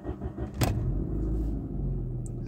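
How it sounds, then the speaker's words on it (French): A 1993 Alfa Romeo 155 1.8 TS with fuel injection starts with a short sharp catch, then settles into a low, steady engine rumble heard close by. "Voilà, on a bien démarré."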